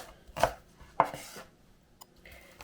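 A knife chops through green onion on a cutting board, two sharp, crisp strikes close by, followed by a few quieter taps.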